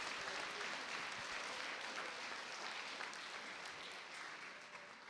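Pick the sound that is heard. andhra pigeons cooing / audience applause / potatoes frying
audience applause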